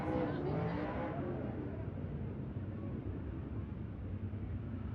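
A race car on a hot lap at Riverside speedway roars past near the start, then fades into a lower engine rumble that drifts on steadily in the distance.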